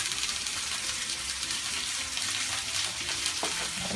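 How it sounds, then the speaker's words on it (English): Food sautés in a pan, giving a continuous crackling sizzle with faint clinks of stirring, close and steady throughout. "we're going to saute those off"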